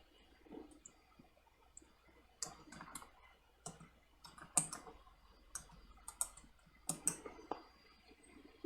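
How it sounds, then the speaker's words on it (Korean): Computer keyboard typing, quiet irregular clicks and taps in short bursts with a sharper keystroke at the end, no talking. "구글 계정이라고 입력을 하고 엔터를 칩니다"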